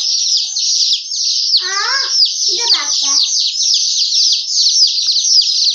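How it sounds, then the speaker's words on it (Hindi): Small chicks chirp in a dense, continuous high-pitched chorus close by, with a voice rising briefly over the peeping partway through. "चूजे बहुत तंग कर रहे थे"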